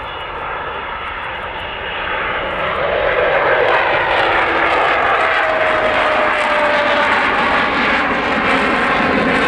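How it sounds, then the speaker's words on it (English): An Avro Vulcan bomber with four Rolls-Royce Bristol Olympus jet engines passes overhead at an airshow, a loud roaring jet rumble that swells after a couple of seconds and holds steady, with a faint rising howl. "that's the sound of 4 Rolls-Royce Bristol Olympus engines"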